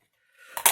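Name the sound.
cutting off a small piece of paper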